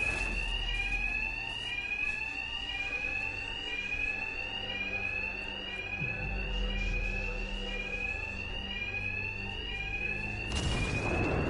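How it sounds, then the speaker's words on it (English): A loud, continuous electronic alarm rings in Batman: Arkham Knight, its repeating rising whoops pulsing steadily for several seconds, with a heavy rumbling thud midway and a burst of noise at the end. "Two-Face's thugs won't hear me over the alarm."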